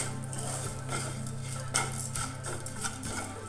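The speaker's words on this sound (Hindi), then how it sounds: "मैं इसमें आधे कप के करीब इसमें नारियल का बुरादा डाल रही हूँ और इसको अच्छे से सौते कर लेंगे।" Desiccated coconut being lightly sautéed in a pan for a chutney, a spoon scraping and stirring against the metal with soft clinks and rustles over a steady low hum.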